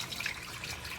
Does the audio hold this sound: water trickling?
yes